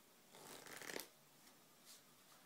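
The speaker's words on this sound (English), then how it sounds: "shuffle these together, and these together." A deck of playing cards being shuffled in a magic trick demonstration, one quick riffle burst lasting about a second, fairly quiet and close, followed by faint handling rustles with no talking.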